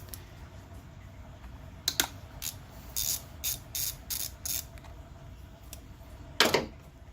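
A ratchet works on a 2007 Toyota Camry during a coolant drain and refill, making short bursts of crisp clicking at irregular intervals against a quiet background.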